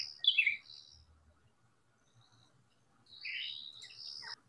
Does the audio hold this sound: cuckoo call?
yes